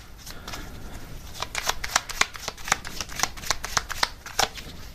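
Tarot cards being shuffled up close, a steady run of crisp riffling flicks and slaps that grows busier and sharper toward the middle, with no talking.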